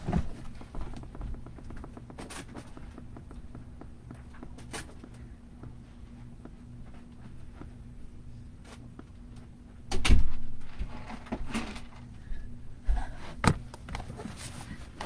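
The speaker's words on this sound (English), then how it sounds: "Let me go close my door." Footsteps cross a room and a door swings shut with a couple of firm thumps and a latch click, heard close by in a quiet indoor space with a faint steady hum beneath.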